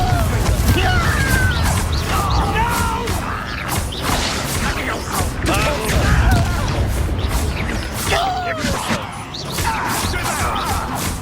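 Bombarda blasting spell cast during combat in Hogwarts Legacy, heard as repeated crashing blasts and whooshes over a busy mix of clanking battle effects and voices.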